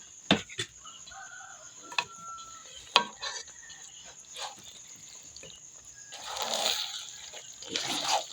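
Wet, sloppy stirring and scraping of spaghetti into sauce in a pan over heat, with a few sharp clanks of a utensil and a steady high hiss throughout.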